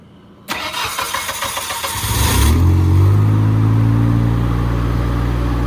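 A standby generator engine cranks and catches, then quickly climbs to full RPM and holds a loud, steady, close drone for several seconds.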